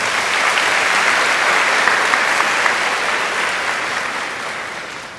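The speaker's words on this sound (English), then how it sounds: "Please give them a round of applause." Sustained applause from a large graduation audience at a high school ceremony, loud and steady throughout before tapering slightly at the end, with no talking over it.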